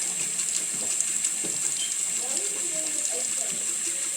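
Hot water runs from a tap in a steady hissing stream, close and moderately loud, with faint voice in the background.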